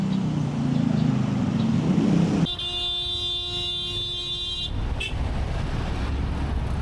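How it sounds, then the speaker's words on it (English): Stalled traffic jam on a busy road, with a steady roadway hum and a long car horn blast held for about two seconds, then a brief second toot, no voices. "Traffic jam because some guy has decided to turn left in the middle lane"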